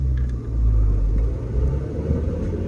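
A steady low rumble and hum from a Honda Civic LX drivetrain with a worn internal 5-speed transmission bearing, droning continuously with a faint mechanical whine riding on top.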